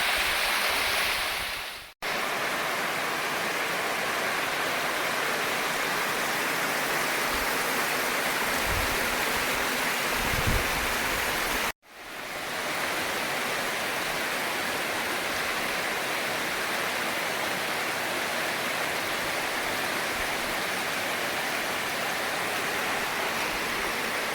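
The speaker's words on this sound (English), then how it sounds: "we made it to the second set of waterfalls here in Surprise Canyon" Waterfalls in Surprise Canyon roar as a dense, continuous broadband rush that is loud and close, broken twice by short cuts, with a few faint low knocks in the middle.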